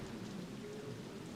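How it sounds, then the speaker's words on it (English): Steady rain falls in the survival horror game Fatal Frame: Maiden of Black Water, a constant soft hiss of drops with no other sounds, faint overall. "in an area that's, you know, constantly raining"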